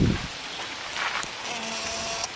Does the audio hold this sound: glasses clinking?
no